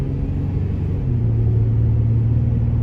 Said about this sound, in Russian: Пробуем разгон до сотни.